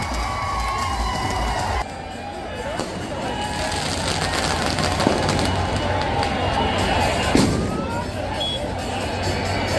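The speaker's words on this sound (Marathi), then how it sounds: "भारताच्या विजयानंतर कोल्हापुरातील छत्रपती शिवाजी महाराज चौक परिसरात क्रिकेट रसिकांनी जल्लोष केला" Cricket fans celebrate India's win at Chhatrapati Shivaji Maharaj Chowk in Kolhapur, a dense outdoor crowd roar with shouting and scattered bangs carrying on continuously, while voices talk over it.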